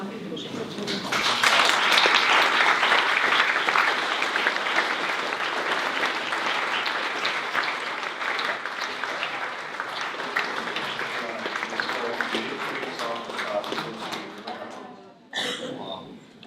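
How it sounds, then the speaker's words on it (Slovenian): A sustained round of audience applause at an award ceremony, dense clapping that peaks early and gradually thins, ending with a brief final burst; a few coughs and murmurs mixed in. "Zaploskajmo."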